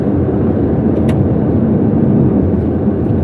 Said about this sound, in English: This V12 sound.